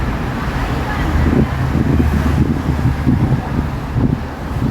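Wind buffeting a microphone outdoors, a steady broad low rumble with gusty swells running through the whole stretch, close and fairly loud, with no talk over it.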